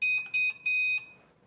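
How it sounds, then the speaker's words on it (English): A heat press timer finishing a cycle while printing an image onto a sock sounds three loud, high electronic beeps: two short ones, then a longer sustained tone that trails off into quiet. "When the timer is done, it will alert us"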